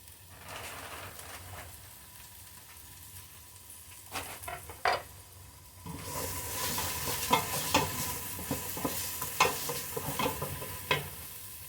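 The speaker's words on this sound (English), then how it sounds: "I'm going to go ahead and saute this pretty good." Chopped celery being sautéed in a pan for potato-broccoli soup. A soft sizzle and a few clacks give way to a louder, steady frying hiss broken by repeated scraping stirs from a utensil, close and alone.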